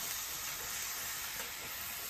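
Vegetables and masala cook in hot oil as they are stirred, making a faint, continuous sizzle and hiss with no breaks.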